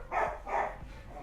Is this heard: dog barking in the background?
yes